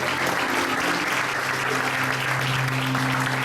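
Sustained applause from a church congregation giving a round of praise to God, dense and steady throughout, with a low sustained tone running beneath the clapping.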